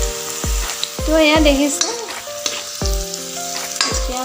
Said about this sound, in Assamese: পিয়াজখিনি আৰু আদা নহৰুখিনি ৰঙচুৱা হ'ব লাগিব তো মই এনেদৰে লৰাই আছো